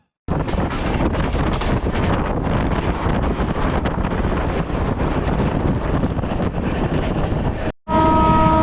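Humsafar Express train running into Aluabari Road junction, a loud continuous rumble and rattle of coaches with heavy wind buffeting at the microphone, a brief dropout near the end before the clatter resumes.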